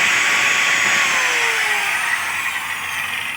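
An angle grinder powered by a 2000-watt inverter whines at a high, steady pitch, running continuously and close, its tone drifting slightly lower toward the end.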